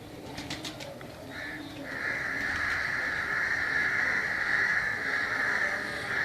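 Pigeons in a loft, a brief flutter of wings followed by a sustained, steady cooing that swells and continues at moderate volume.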